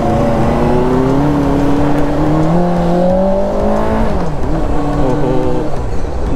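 A 2021 Benelli TNT 600i motorcycle with its stock exhaust pulls hard in first gear, the engine note climbing steadily in pitch as it accelerates, loud and close with a whirring drone before easing off.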